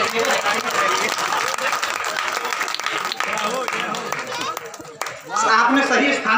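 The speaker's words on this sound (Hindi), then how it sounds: "और आप लोग भी ताली बजाते ही रहिए" Audience clapping at a Hindi comic poetry recital (hasya kavi sammelan) in Aligarh, a steady sustained round of applause from a seated crowd with voices mixed in, swelling briefly louder near the end.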